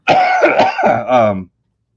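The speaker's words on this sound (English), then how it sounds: "I'm sorry about the cough" A single harsh throat-clearing cough from an allergy sufferer, close and loud, lasting over a second with a raspy, voiced tail, then silence.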